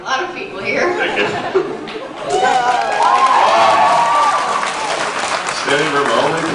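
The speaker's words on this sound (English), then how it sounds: "People are clapping and everything." A packed audience at a Megacon panel in Orlando bursts into applause, starting with scattered chatter and laughter, then swelling into sustained, loud clapping and cheering that holds for several seconds.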